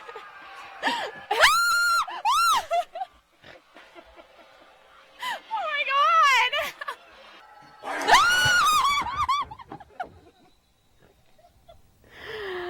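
A woman lets out several sharp, high frightened screams and gasping shrieks in bursts, loud and close, separated by short pauses with other voices briefly between them.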